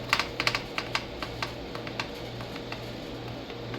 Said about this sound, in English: it was making a clicking noise from that cord